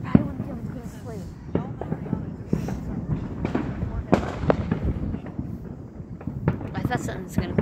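Fourth of July fireworks pop and crackle in an irregular, continuous stream of near and distant bangs, with people talking over them.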